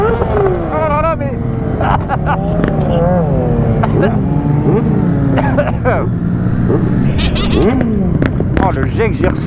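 A loud vehicle with an aggressive exhaust revs and roars past on a busy street at night, mixed with other traffic and a lively crowd, while people talk excitedly over it throughout.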